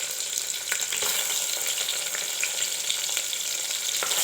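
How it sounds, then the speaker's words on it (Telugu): Eggplant pieces fry in hot oil with ginger-garlic paste and green chillies, making a steady, dense hiss and crackle with a few soft stirring knocks; no one talks. "ఇందులో వంకాయ ముక్కలు కూడా వేసేసుకోవాలి."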